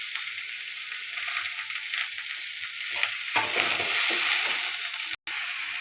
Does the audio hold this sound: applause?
no